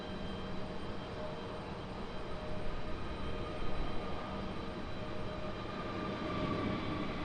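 A Frontier airliner departing from Raleigh-Durham airport gives a steady, broad jet roar that holds even and swells slightly toward the end, heard from a distance with no talk.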